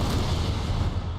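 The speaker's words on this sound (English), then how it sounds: "They are loading the cannon, firing" Cannons fire in the video game Total War: Shogun 2, a dense, continuous booming roar of artillery with no break and no voices.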